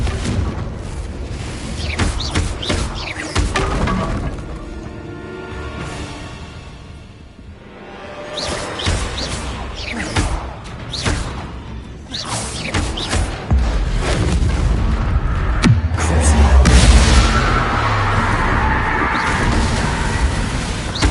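The Confringo explosive spell in Hogwarts Legacy is cast repeatedly, with loud booms and crashing impacts spread irregularly across the fight, some landing close and heavy, and no talking.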